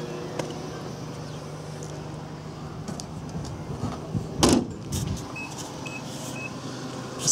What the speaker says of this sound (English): just close the boot